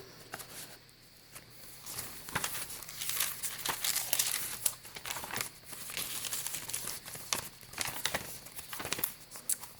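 Paper rustles and crinkles as pages of a softcover blue and green journal with ledger paper, pink dyed paper and a vellum envelope are turned, with close, irregular crisp crackles and soft taps in a quiet room.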